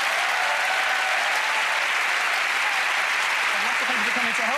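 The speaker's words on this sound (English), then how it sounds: "Give her a round of applause." Dense, sustained applause from a large studio audience on a magic show, loud and unbroken throughout with a voice faintly heard near the end.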